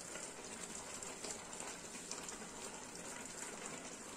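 Water is poured from a glass into a pot of dal with oil, a steady, soft gushing flow running evenly throughout at close range.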